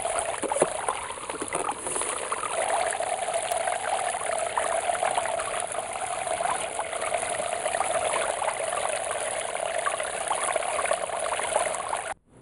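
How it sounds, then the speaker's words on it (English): Water from a sump pump pours steadily through a gold sluice during outdoor gold processing, a constant close rushing and trickling wash with no breaks, then cutting off abruptly at the end. "Things got good enough flow, I could use a wider sluice with it."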